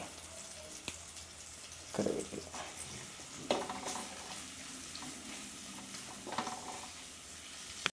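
Chopped shallots, green peppercorns and curry leaves sizzling softly in hot oil, with a few louder bursts of crackle and scraping as the pan is stirred, quiet overall and without talk.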